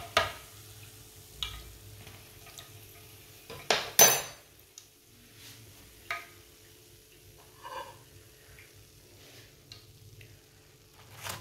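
Crispy fried potato pakoras being moved onto a plate, with a few sharp clinks and scrapes of utensils on dishware against quiet frying in the background.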